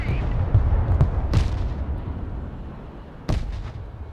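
Artillery fires smoke rounds in the war video game Broken Arrow: several distant booming thumps, spaced apart, over a constant low rumble of battlefield ambience.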